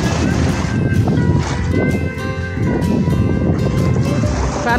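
Boat cruising on the open sea, a steady engine drone mixed with rushing water and wave splashes, with voices talking faintly in the background.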